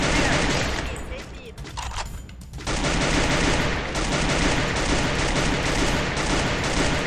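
Rapid bursts of automatic gunfire in the video game Free Fire, dense and continuous after a brief lull, loud over background game noise with a voice faintly present.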